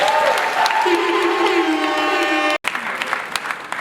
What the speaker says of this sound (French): je vous demande de faire des applaudissements